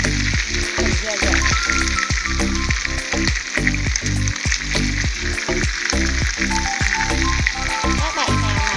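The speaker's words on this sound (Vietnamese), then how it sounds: "Mình sẽ chiên cái da." Chicken skin fries in hot oil for Vietnamese fried chicken, giving a steady, dense crackling sizzle with busy popping throughout, close and loud.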